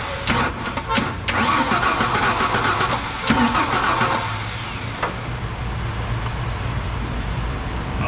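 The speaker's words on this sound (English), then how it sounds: "I'm gonna go ahead and turn this engine over" A Ford F150 engine cranks over with a rough, uneven churning close by, loud at first and then settling into a lower steady rumble.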